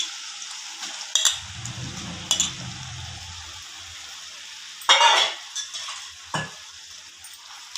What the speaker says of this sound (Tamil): சிக்கனை ஒரு வாட்டி இப்படி கிளறி விட்டுக்கலாம்